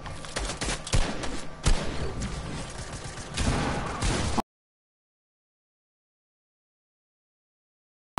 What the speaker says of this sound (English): I'm literally shooting them, and then about 3 seconds after, the damage comes up.